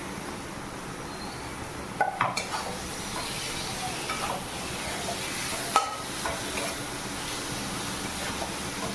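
Tomatoes and spices stir-fried in a pan for a mushroom dish give a low, soft sizzle, broken by a couple of sharp scraping knocks of a spoon against the pan.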